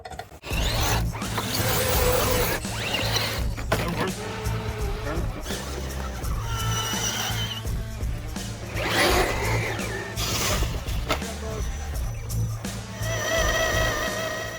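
A Traxxas Trailfinder 2 Midnight Edition RC truck crawls about with whirring motor and gear ratcheting and clicking, heard under someone talking throughout.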